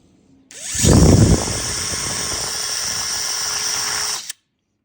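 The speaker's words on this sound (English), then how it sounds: "I just take them and drill 2 holes for, so the plants can drain" A power drill whirs loudly for about four seconds while drilling holes in plastic cups, starting with a brief heavier grinding burst, then running steadily before stopping abruptly.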